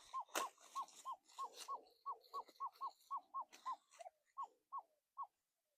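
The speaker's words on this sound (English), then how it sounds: "Hear the birds out there?" A bird outdoors gives a rapid, evenly spaced series of roughly eighteen short hooting calls, faint and distant, before falling silent.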